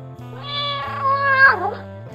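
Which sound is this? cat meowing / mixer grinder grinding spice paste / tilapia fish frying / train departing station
cat meowing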